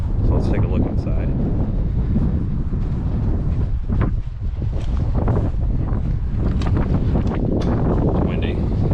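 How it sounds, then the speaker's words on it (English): Strong outdoor wind buffets the microphone at an Airstream trailer restoration, giving a continuous heavy low rumble with gusty surges. A voice talks underneath. "It's windy."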